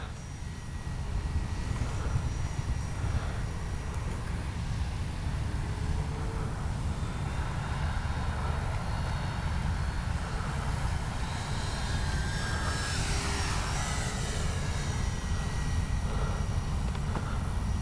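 A Durafly 1100mm T-28 Trojan RC model airplane flies overhead on speed trials, its small electric propeller motor whining steadily at a distance, swelling briefly as it passes, over constant outdoor wind noise.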